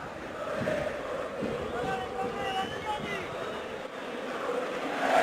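River Plate football crowd at the Monumental stadium during a match against Quilmes, a wide roaring mass of supporters with swelling chants, heard under a commentator's voice.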